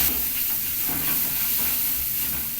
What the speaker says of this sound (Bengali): বেসনটাও আমি এর মধ্যে কষিয়ে নেব দেখো